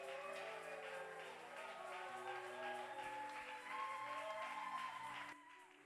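A church congregation applauds and cheers at a steady, dense level, with a crowd murmur beneath, before the noise drops off abruptly near the end.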